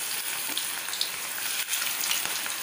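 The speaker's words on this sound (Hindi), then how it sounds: "और हम इसमें तेल डाल के इनको फ्राई कर लेते हैं" Manchurian balls fry in hot oil over medium heat, making a dense, continuous hiss of fine crackles that stays loud and close throughout the short stretch, with no talking.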